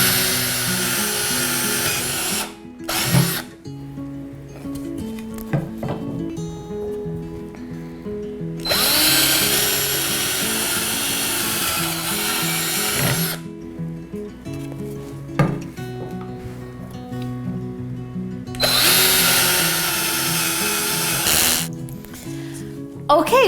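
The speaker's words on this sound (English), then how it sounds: "I'm going to drill the rest of these dowels." Power drill boring through wooden dowels for a garden A-frame, three long loud bursts of whirring drilling separated by quieter gaps where the motor winds down and small handling sounds and brief talk occur.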